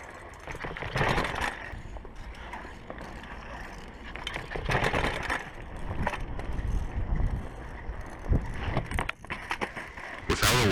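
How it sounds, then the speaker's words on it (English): A Walmart Mongoose bicycle with a flat tire and a broken drivetrain is ridden downstairs outdoors, its chain and parts scraping and clattering along the ground in uneven bursts, with wind buffeting the microphone. "Ignoring the flat tire and the unusable drivetrain, which you can hear dragging on the ground, I kept on riding the Mongoose downstairs."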